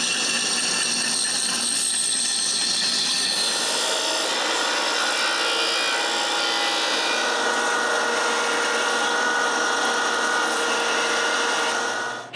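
A wooden camera-support arm, traced from a wooden tripod part, is cut with a tool, producing a steady, loud, whirring rasp of blade through wood that runs unbroken until it stops abruptly.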